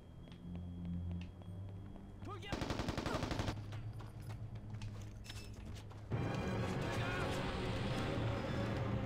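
Assault rifle fire in Mercenaries: Playground of Destruction crackles in a rapid, steady burst of close shots, followed later by a denser, continuous stretch of battle noise under quiet game ambience.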